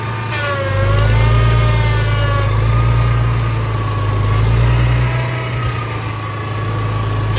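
A tractor engine drones steadily at close range while driving across a soybean field, its deep hum rising and falling slightly as it rolls along, with no voices.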